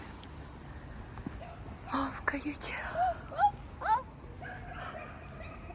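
Dogs bark and yip a few times at moderate distance outdoors on a street, mixed with soft whispered talk and background noise.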